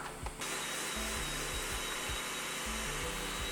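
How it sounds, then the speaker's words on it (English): An electric grinder whirs loudly and steadily as it grinds onion paste for an Indian black-eyed bean curry, its motor pitch dipping in a rhythmic pulse as it works, close and continuous with no talking. "So we're gonna start by grinding up our onion paste."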